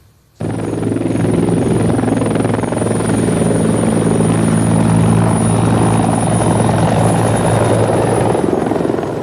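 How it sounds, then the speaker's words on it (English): A helicopter's engine and rotor roar start abruptly and stay loud and steady at close range for several seconds, with a thin high whine running throughout. "that chopper took off and was rushing him to the hospital"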